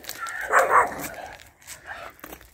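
Oslo, a dog inside a nomad's van, gives a few sharp barks and yips close by, two loud ones followed by softer whimpering yelps, with no clear talk over them.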